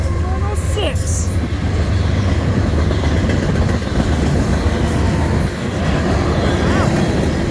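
CN 2930, a wreck repair train on the M340 at Ladysmith, Wisconsin, rumbles past close by with a steady low roar and faint wheel clatter, and brief high squeals ride on top.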